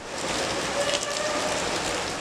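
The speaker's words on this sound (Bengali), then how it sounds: "সবার মনে এখন একটাই প্রশ্ন, কখন থামবে এই বৃষ্টি?" Heavy rain pouring down in Dhaka, a dense, continuous hiss of water striking surfaces, loud and unbroken across the whole short stretch.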